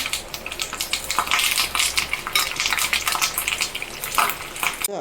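Dried red chillies and curry leaves sputtering in hot oil for a tempering, with a loud steady sizzle, crackling pops and a spoon scraping the pan now and then.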